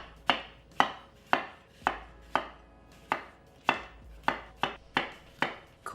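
Knife trimming the ends of peeled apples on a cutting board, about a dozen sharp, close chopping taps at a steady, unhurried rhythm with quiet pauses between strokes.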